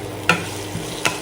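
Onion and split green chili frying in ghee, giving a soft sizzle with a couple of sharp clinks as a spoon stirs the pan, brief and close.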